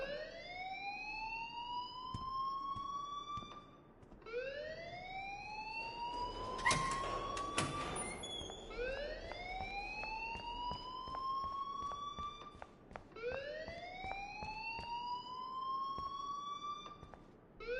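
School alarm in the Life Is Strange video game, a loud rising electronic wail repeating every four seconds or so, with a harsh clattering burst partway through.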